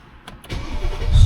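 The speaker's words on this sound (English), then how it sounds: "Start up the car." A blacked-out Mercedes cold-starts: a brief starter whir, then the engine catches and rises into a loud, deep rumble that keeps building, recorded close by.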